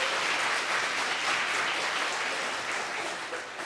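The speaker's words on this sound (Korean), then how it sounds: "다시 한번 뜨겁게 감사의 박수 해주셨으면 좋겠습니다" A church congregation at a New Year's Eve watchnight service applauds warmly, a dense, even wash of clapping from many hands that carries on steadily and eases slightly toward the end.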